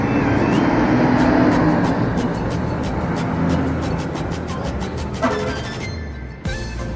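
A Harapan Jaya bus idles and moves at Tamanan bus terminal in Kediri, its deep engine rumble blending with surrounding traffic noise, a few sharp knocks and a brief hiss near the end, with voices in the background.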